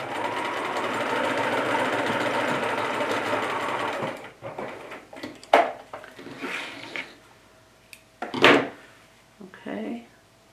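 A Bernina sewing machine stitches at stitch length 3, a steady loud mechanical whir for about four seconds that then stops, followed by scattered clicks and handling knocks of fabric and machine parts.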